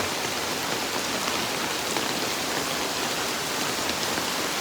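Steady, dense rain pattering on a surface, loud and close, with no voices and no break in the hiss.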